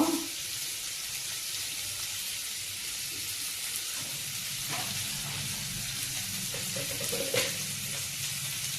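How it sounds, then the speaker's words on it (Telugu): Onions frying in a pan for Maggi noodles alongside dried red chillies, a steady soft sizzle throughout with faint stirring and clinks, no talk. "ఉల్లిపాయ కొంచెం బ్రౌన్ అవ్వాలండి."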